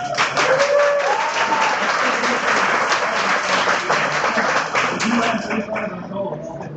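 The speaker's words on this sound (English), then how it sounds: "so applause for this, please." Audience at an MSI computer-hardware event applauding for several seconds, dense steady clapping with some voices underneath and a faint tone, tapering slightly at the end.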